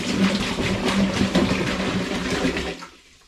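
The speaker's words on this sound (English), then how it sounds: "I'm going to begin by adding 5 litres of spring water" Supermarket spring water pours steadily into a cider brewing bucket, a close, continuous splashing rush that cuts off abruptly near the end.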